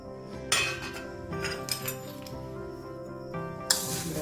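Roasted mango kernel pieces tumble in with cooled, crisp fenugreek seeds in a kitchen bowl, giving several close, bright clinks and rattles in short bursts, alone without talk.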